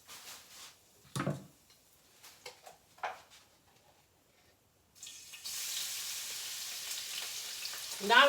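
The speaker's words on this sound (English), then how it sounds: "Now I'm going to come over here in my oil and I'm going to come in with some onion." Onion added to hot oil in a home kitchen while cooking pasta: a few soft clatters and knocks, then a sudden loud steady sizzle that continues to the end, close by.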